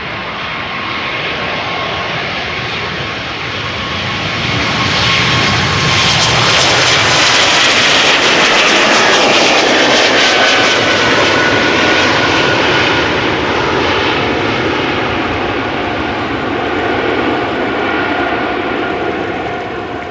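Air Baltic jet departing Amsterdam Schiphol Airport, flight to Riga: a loud, continuous engine roar that swells in the middle and holds with a broad rumbling hiss as the aircraft climbs away, no talk over it.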